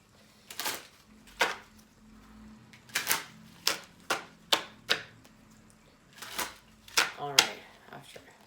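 Tarot cards being reshuffled by hand, a series of sharp, separate riffling snaps and slaps in irregular bursts, close and crisp against a quiet room.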